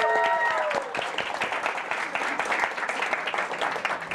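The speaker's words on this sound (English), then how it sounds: "Can we get one more huge round of applause for her" A summit audience gives a round of applause, dense crowd clapping that starts under a brief fading tone and carries on steadily at moderate volume.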